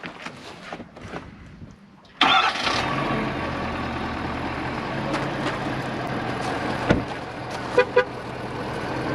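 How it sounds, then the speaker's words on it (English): A vehicle engine, with a VIAIR 450-RVS air compressor system present, catches abruptly after a quiet stretch and settles into a steady running drone outdoors at Great Sand Dunes National Park, with a couple of brief sharp clicks near the end. "I'm going to turn the engine on"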